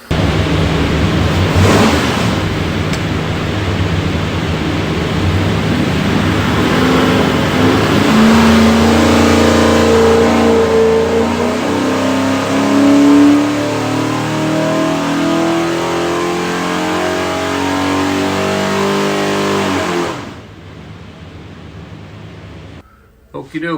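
A 383 stroker Chevy V8 built for a '69 Nova SS revs hard on a dyno, a loud, sustained engine roar that climbs steadily in pitch for about twenty seconds before cutting off abruptly.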